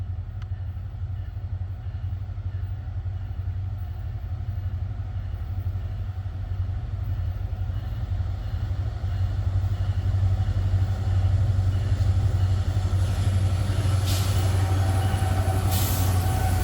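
A loaded freight train carrying denatured alcohol rolls past steadily, its heavy low rumble constant throughout, with brief metallic squeals rising near the end.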